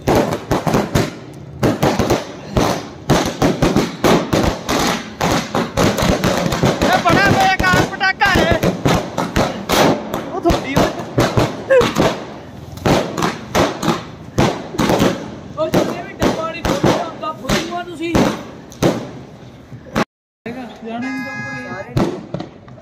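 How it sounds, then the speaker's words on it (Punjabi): Firecrackers going off at a village celebration in Punjab, a loud rapid barrage of sharp bangs and crackles with brief pauses, close by, with voices talking among the blasts. "ਬੜਾ ਬੇਕਾਰ ਚੱਲਿਆ ਪਟਾਕੇ।"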